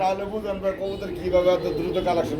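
Pigeons at a bird market coo in soft repeated throaty notes, fairly close, mixed with people talking nearby.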